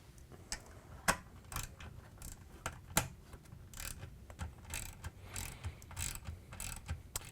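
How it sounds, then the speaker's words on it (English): A 3/8 inch socket ratchet tightens a motor mounting screw on a GE pump, giving a steady series of quiet, close mechanical clicks with a few sharper pawl snaps. "we can use our 3/8 socket again to tighten down the mounting screw"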